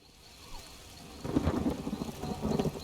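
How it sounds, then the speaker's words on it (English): Rain pattering steadily in Elder Scrolls Online while a low rumble of thunder rolls in partway through and swells, moderately loud, with no talking. "I could do without this damnable rain. It's been storming since we arrived,"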